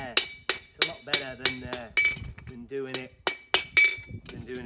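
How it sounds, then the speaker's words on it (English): A farrier hammers tongs held against an anvil while fitting a horseshoe, giving a run of sharp, ringing metallic strikes in a steady rhythm, close and fairly loud. "if I push the tongs against the anvil and hammer there, it's a lot better"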